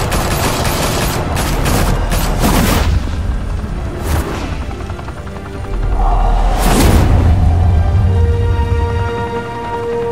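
A shootout in Batman: The Telltale Series erupts in loud, sustained gunfire with heavy booming blasts, the barrage swelling again in the second half.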